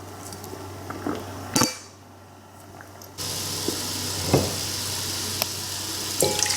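Meat sizzling as it begins to simmer in a pot, a steady low sizzle broken by a few sharp clinks of pots and utensils, with a brief quieter gap partway through.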